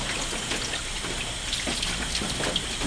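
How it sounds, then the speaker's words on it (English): Hose water rinsing out a screen printing screen, sheeting down both sides to wash away emulsion slime; a steady, close, loud rush of spraying water with no talk. "you just kind of let the water sheet down on both sides, and that really helps rinse out the slime"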